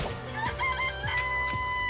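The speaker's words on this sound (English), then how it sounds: "There are chickens in here." Chickens in the Danganronpa: Trigger Happy Havoc game cluck and squawk in a short burst of bright, repeated calls, close and clear with no talking.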